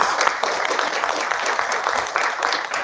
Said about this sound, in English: Let's once again, please give Rachel a round of applause.